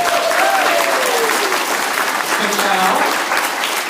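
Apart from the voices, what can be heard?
audience applause for volunteers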